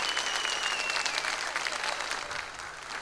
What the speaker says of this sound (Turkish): Güzel bir alkış istiyorum ben.